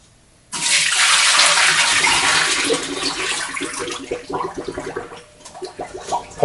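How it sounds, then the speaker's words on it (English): Potato cooking water is poured off into a kitchen sink for codfish and chips. After a brief quiet start it becomes a loud, steady gush that breaks into splashing, gurgling trickles as the pour tapers off, with no voices. "Pouring the water off"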